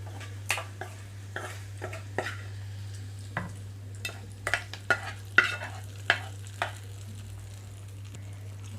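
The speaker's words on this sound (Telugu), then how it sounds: "ఇదంతా తాలింపులో తాలింపు అంతా మజ్జిగలో కలిపేస్తున్నాను" Spoon stirring fried tempering of softened onions into buttermilk for majjiga pulusu, with light scraping taps and clinks scattered irregularly over a steady low hum, nearby and moderately quiet.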